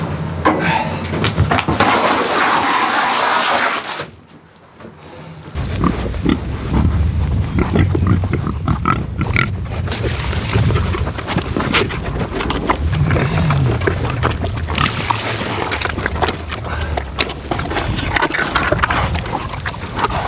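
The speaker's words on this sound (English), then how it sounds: "I've never seen more FOMO in my life than pigs eating or coming after milk." Piglets on a farm squeal loudly and continuously as they rush toward milk, a dense, shrill chorus that drops out briefly before resuming at full volume.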